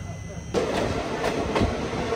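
Goa to Tirupati Express train starting to roll, a steady rumbling wheel-and-carriage din with soft rhythmic clatters, heard from inside the coach.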